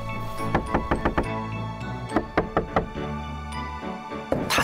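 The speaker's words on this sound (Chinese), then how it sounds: "他在敲门，他来找我了" A door is knocked on in quick clusters of sharp, close raps, three or four at a time, with brief pauses between bursts and a final heavier knock.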